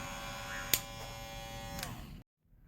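Ion Extreme hair clippers run on their high setting with a steady, close electric buzz and a brief click, then cut off abruptly into silence.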